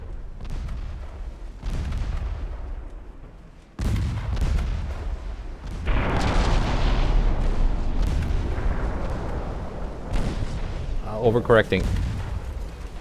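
Torpedo hits exploding against a warship in a 1948 naval combat game, several deep, heavy booms rolling out over a low rumble, with someone talking briefly between them.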